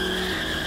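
Tires squeal as a car skids in a video game, a short, loud, sustained screech with no voices over it.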